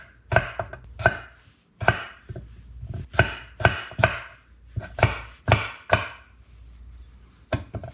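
A knife chops potatoes on a cutting board in sharp, close thuds, about a dozen irregular strikes in quick clusters separated by short pauses, with no talking.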